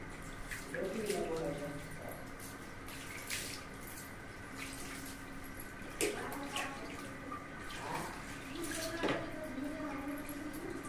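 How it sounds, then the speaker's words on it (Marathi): Water pours and splashes in short bursts over a soaped neck during a bath massage, with a soft voice speaking quietly in the background between pours. "पाणी टाकून घेऊया"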